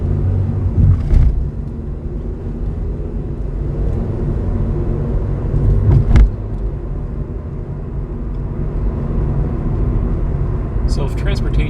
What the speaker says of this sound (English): we need to know how many vehicles a day are using this bridge